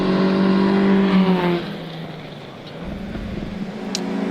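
Rally car on a special stage of the 2025 NZRC Goldrush Rally Coromandel, engine note held high then dropping off and fading into a distant rumble, no voices.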